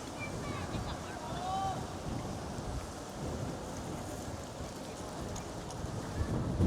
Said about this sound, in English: It's getting really windy again.